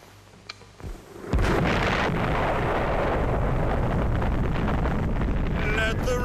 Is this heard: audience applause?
no